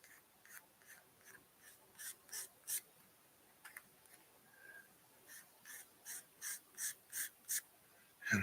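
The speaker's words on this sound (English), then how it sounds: "we're going to run the sanding stick along the edge" Sanding stick drawn along the edge of a plastic Gundam model part, Rick Dias kit, giving a series of soft rasping strokes that grow into a steady back-and-forth rhythm, close and quiet with no talking.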